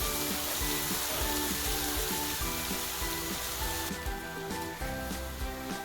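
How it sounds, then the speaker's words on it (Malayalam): Gravy is poured over mackerel frying in a pan, setting off a loud, continuous hiss and crackle close by. A faint rhythmic churning runs beneath it, and the sizzle eases slightly toward the end. "ഉണ്ടാക്കി വെച്ച ഗ്രേവി നമുക്ക് മുഴുവനായിട്ട് നമുക്ക് ഇതിലേക്ക് ഒഴിച്ചു കൊടുക്കാം"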